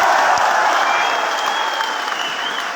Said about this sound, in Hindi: एक बार आकाश भर तालियां बजा करके मारवाड़ का प्यार दीजिएगा